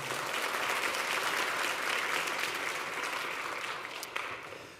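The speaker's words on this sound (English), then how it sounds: "let's give her a round of applause as well" An audience at a college convocation applauding, dense sustained clapping from many hands in a large room that gradually thins and fades toward the end.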